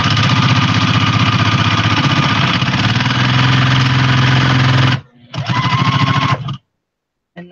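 A sewing machine stitching a baby rag quilt, a loud, fast, steady mechanical hum with rhythmic needle clatter running continuously, then stopping briefly, restarting for a short run and halting, with no talking.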